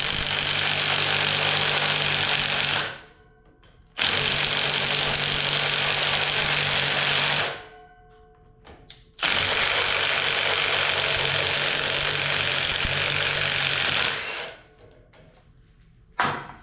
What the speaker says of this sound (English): The old Harbor Freight, I just found this is faster.